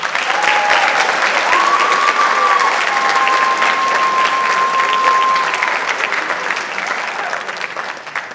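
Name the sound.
audience applause at choir concert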